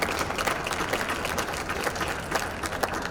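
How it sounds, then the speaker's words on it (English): A crowd claps for the finalists of a health tech competition, continuous even applause for about three seconds with no speech on top. "all of the finalists deserve a round of applause"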